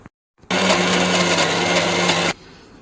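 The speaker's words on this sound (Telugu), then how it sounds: "ఫైనల్గా ఇది ఒక్కసారి అయితే మిక్సీ పట్టేస్తే అయిపోద్ది" A mixie grinder whirs loudly for about two seconds while blending chilli masala for fish curry, starting abruptly, holding a steady high-speed drone and then cutting off.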